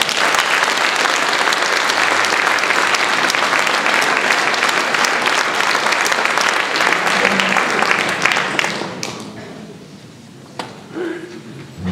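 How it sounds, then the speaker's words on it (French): Loud, dense applause from an audience at a free-speech conference, sustained for several seconds before thinning out and fading, leaving a few scattered claps and some low murmuring. "de l'applaudir très fort"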